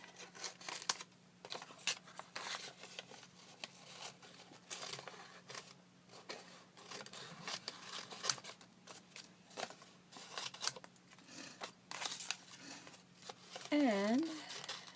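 Scissors cutting around paper pieces for a friendship journal, faint intermittent snips and papery crinkles with soft handling noises, ending with a brief voice.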